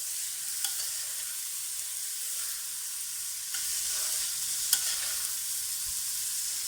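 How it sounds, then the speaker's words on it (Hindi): Soaked rice is stirred in a hot pot, giving a soft, steady sizzle with faint scraping and occasional light clicks of the spoon against the pot, quiet and close. "चावल के साथ हम इनको 2 से 3 मिनट तक अच्छी तरह से चलाएंगे"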